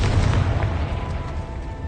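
Confringo fire spell exploding in Hogwarts Legacy, a heavy booming blast with a rumbling low-end roar that slowly decays over about two seconds.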